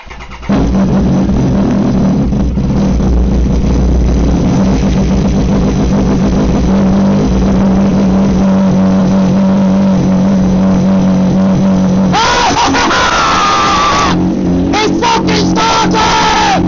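A car engine runs steadily right after being started, a loud continuous mid-range drone that holds for several seconds, then shifts to rougher revving bursts near the end.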